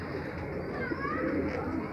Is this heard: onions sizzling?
no